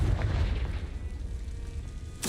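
A Confringo blasting spell detonating in the Hogwarts Legacy video game, a loud, deep boom that rolls and rumbles away over two seconds, followed by a sharp new burst right at the end.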